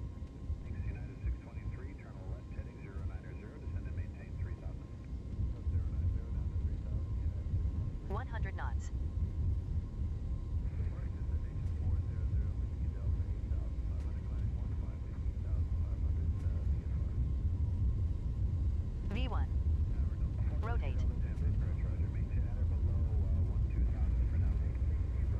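Airbus A320neo engines spool to takeoff thrust in the X-Plane 12 flight simulator, a steady loud low roar and rumble filling the whole stretch with brief tonal chirps on top; a voice speaks over it at times.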